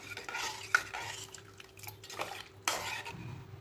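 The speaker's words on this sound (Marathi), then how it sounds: "आता हे हलवून घ्यायचं आहे आपल्याला" A spoon stirs chole with spices, powdered coriander and a pinch of soda in a pot, producing close scrapes and a couple of sharp metallic clinks against the rim, quiet and intermittent.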